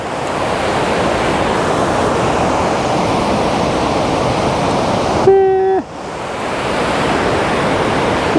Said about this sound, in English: There's a lot of water coming through there and some big chunky rocks.